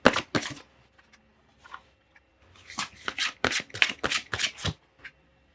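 Oracle cards being shuffled for a tarot reading: a few riffling bursts, a pause, then a rapid run of crisp card slaps and riffles, close and alone.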